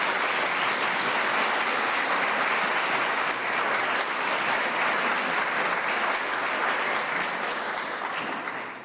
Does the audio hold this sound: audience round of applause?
yes